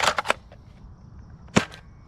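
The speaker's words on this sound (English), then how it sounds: "We will of course be firing the brand new N1 darts." Nerf N-Series Agility sidearm blaster shooting N1 darts outdoors: three quick sharp pops close together at the start, then a pause and two more pops, crisp and near with no talk.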